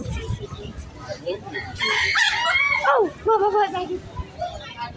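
A rooster crows outdoors in one long, rising and falling call followed by a shorter second crow, with faint voices and background noise around it.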